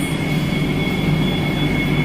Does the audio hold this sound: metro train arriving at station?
yes